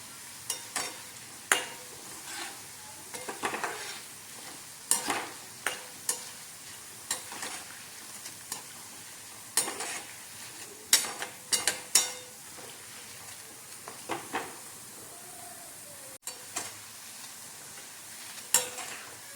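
Boondi batter dropping into hot oil over a full flame, with repeated soft sizzling bursts at an irregular rhythm over a steady low frying hiss, close by with no talking.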